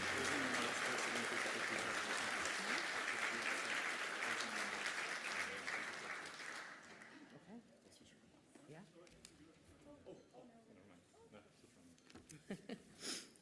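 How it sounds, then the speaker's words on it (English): Loud, dense applause from a banquet crowd honoring event sponsors, sustained for several seconds before tapering off into scattered claps and murmuring voices. "let's give them a round of applause, all of our"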